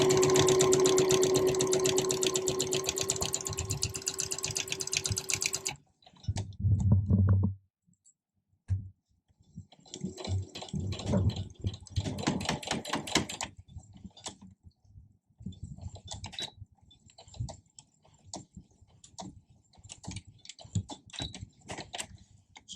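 A sewing machine stitches a fabric mask. It runs in one steady whirring burst, stops, then returns in short stop-start runs with rapid needle clatter. It is heard close up with no talk.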